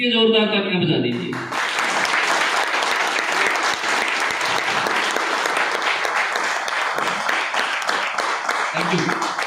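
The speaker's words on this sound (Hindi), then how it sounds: "एक बार अपने लिए जोरदार तालियां बजा दीजिए।" Loud, sustained audience applause fills a large hall at a network-marketing training seminar, starting after a brief burst of talk and continuing steadily as dense clapping from a big crowd.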